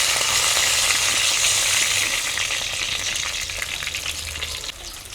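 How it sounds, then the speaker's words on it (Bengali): Tuna pieces fry in mustard oil in a pan, giving a loud, dense, continuous sizzle that eases slightly toward the end, without any talking. "প্রথমে মাছগুলোকে ভেজে নেব।"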